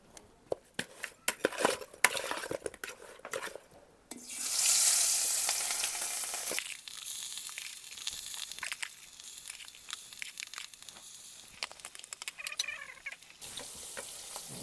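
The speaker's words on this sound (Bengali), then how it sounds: "এখন মাছটা একটু হালকা ভেজে নেব নুন হলুদ দিয়ে" Hilsa fish frying in a kadai with salt and turmeric, a bright crackling sizzle that flares loudly for a couple of seconds, set among clattering stirs and scraping against the pan, with no voices.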